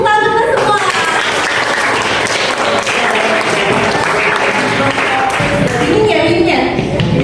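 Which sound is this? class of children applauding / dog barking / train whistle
class of children applauding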